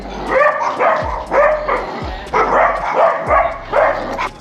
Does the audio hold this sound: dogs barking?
yes